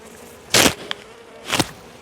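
Bees from a caught swarm buzz past close by in two short loud bursts, each a broad whirring hum lasting a fraction of a second, with a faint background drone between them.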